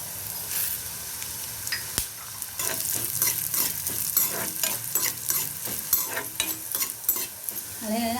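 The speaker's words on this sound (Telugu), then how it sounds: "ఇవి దోరగా వేపుకోవాలండి" Coriander seeds roasting in sesame oil in a pan, a steady close sizzle with repeated scraping stirs, loud and continuous with no talk.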